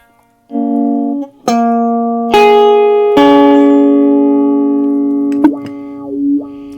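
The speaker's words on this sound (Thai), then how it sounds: "เป็นออโต้วาลให้มันหมุนอย่างนี้นะครับ เสียงวาลลึกมากนะครับ" Clean electric guitar notes through a Boss AW-2 auto-wah pedal, sustained one after another, each with a sweeping wah-like filter, ringing bright and close before a final sliding note fades.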